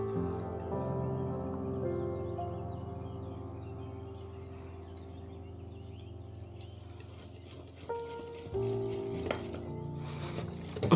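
Cake batter being stirred in a bowl for a light, oil-free everyday cake, soft steady scraping and mixing with a few sharper clinks of the utensil against the bowl near the end, no talking.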